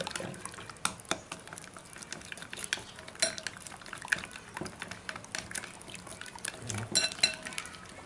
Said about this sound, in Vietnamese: Vậy là mình đã bỏ cá vô, mình quậy lên,